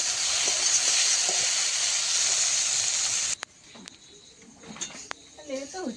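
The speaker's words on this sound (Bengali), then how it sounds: "এখন বরবটি আর আলু ভাজা চলছে চাউমিনের জন্য।" Long beans and potatoes fry in a wok for chow mein, a loud hissing sizzle for a few seconds that suddenly drops away, followed by quiet clatter and a voice.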